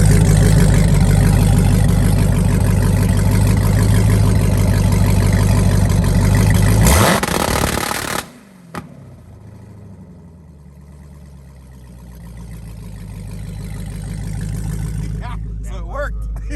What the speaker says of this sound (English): I'm gonna test the two-step out to see if the two-step actually kicks in